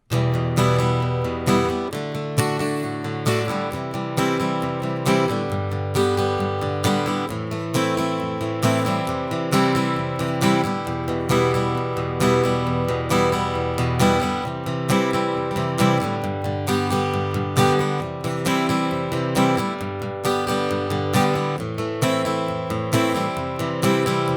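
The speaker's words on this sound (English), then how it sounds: "And then we'll go into the chorus, but we're going to have a slightly different progression." Steady strummed acoustic guitar plays the chorus progression of a song, with even, rhythmic chord strokes ringing close and clear and no voice over them.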